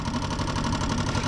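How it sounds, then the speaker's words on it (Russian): An outboard motor on a small inflatable boat idles steadily and close by, a dense, pulsing mechanical drone that continues evenly, from a motor with a fault that stalls under throttle. "Вот на холостых он еще работает."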